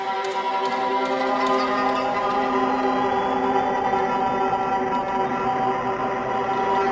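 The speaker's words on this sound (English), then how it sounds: "I got some creepy string samples set up, and I'm gonna run them through the Mood Mark II to make them sound like this." Creepy sampled strings run through a Mood Mark II effect pedal hold a dense, sustained drone of layered tones with a shimmering, processed texture, steady and fairly loud throughout with no talking.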